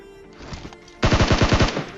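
Gunfire in the PUBG video game sounds as a loud, rapid automatic burst of about eight close shots, after a few fainter shots just before it.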